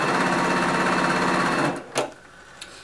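A sewing machine chain-pieces fabric squares with a quarter-inch seam, a close, steady rapid stitching hum that stops abruptly, followed by a couple of light clicks.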